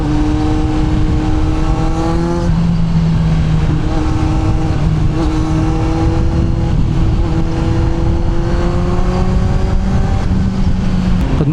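A 2022 Kawasaki Z900 big bike accelerates hard through several gears, its loud, close engine note climbing steadily, dropping at each shift and climbing again under heavy wind rush.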